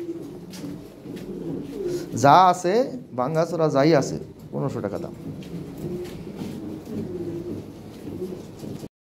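Lahore Siraji pigeons coo in a few low, throaty phrases close by at a market sale, mixed with steady background murmur and someone talking over them.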